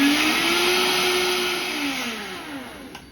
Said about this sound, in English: our 1/2 cup of coconut sugar into the Vitamix dry attachment